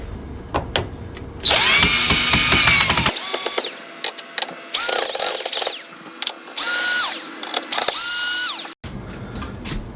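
Phillips-head screws being backed out of a GE oven that won't heat, by a driver close by: several whirring, ratcheting bursts of varied length with short pauses between, no talking.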